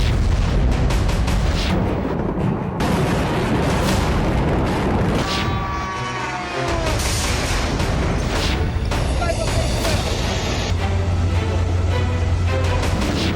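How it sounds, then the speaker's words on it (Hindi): A missile striking Sochi, Russia, heard as a run of loud booming blasts and rumbling bursts across the recording, with a voice talking over parts of it. "रूसी एयर डिफेंस ने मिसफायर किया तो मिसाइल सोची में ही गिर गई। जोरदार ब्लास्ट हुआ"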